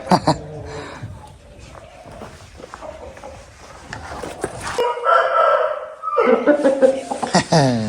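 Roosters crow loudly and close, several calls overlapping with clucking, while people talk and chuckle in the background.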